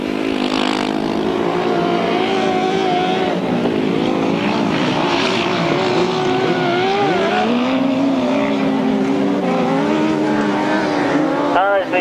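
Grasstrack sidecar outfits race round the pit bend at a 1992 event near Hastings, engines roaring loudly and continuously with rising and falling pitch as they pass, under a commentator's voice.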